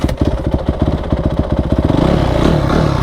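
A stock Honda two-stroke CR125R or four-stroke CRF250R dirt bike engine revs hard and close, its rapid firing pulses climbing steadily in pitch and loudness over three seconds.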